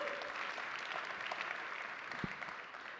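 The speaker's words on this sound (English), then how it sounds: "What do I got to do to get an applause after I say something?" Audience applause fills a Bitcoin conference hall, steady dense clapping from a crowd that holds for the whole stretch at moderate distance.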